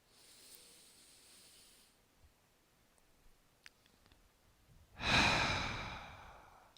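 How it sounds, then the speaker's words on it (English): A deep breath during a yoga session: a soft, long inhale is heard first, then after a quiet pause a louder, breathy exhale close by, with no talking. "And another deep, deep, deep inhale."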